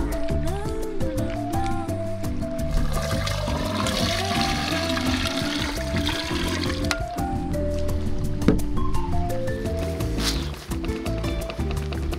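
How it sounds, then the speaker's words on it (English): A Geyser portable heated shower runs water steadily on a backcountry overland trail, a continuous splashing rush with a musical tone weaving through it across the whole stretch. "This portable heated shower from Geyser is just the thing I needed to clean up after a few days on the trail."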